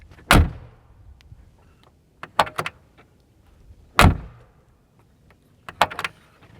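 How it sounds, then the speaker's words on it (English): Heavy doors on a Mercedes G-Wagon with a two-inch lift close in four solid, close-up thunks at uneven intervals, with faint rattles and clicks between them. "How can you not love the sound? Just classic G-Wagon. The doors are heavy."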